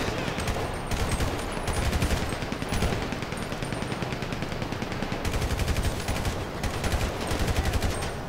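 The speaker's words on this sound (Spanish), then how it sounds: "Voy a coger la ametralladora mejor." Rapid automatic gunfire from a machine gun in GTA Online, sustained bursts of loud, dense shots crackling across the whole clip with brief lulls between volleys.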